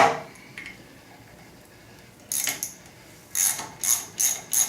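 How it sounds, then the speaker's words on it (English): A ratchet wrench loosening a bolt on a BMW R65 motorcycle brake caliper, heard as a few crisp metallic clicks after a quiet stretch, then a short burst of loud, evenly spaced ratcheting. "bolt I'm untightening here. Untightening."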